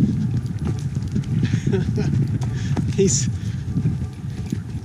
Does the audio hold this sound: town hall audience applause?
no